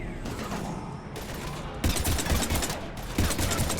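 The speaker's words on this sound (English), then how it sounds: "we're taking heavy fire" Heavy gunfire in Mass Effect 3 during a fight against husks: dense, rapid bursts of automatic fire grow louder and more sustained partway through, with brief pauses between volleys over a constant battle din.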